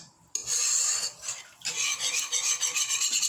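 A utensil scraping and stirring béchamel sauce in a pan, with bursts of rasping friction against the metal that start abruptly and then continue in uneven strokes, close and fairly loud.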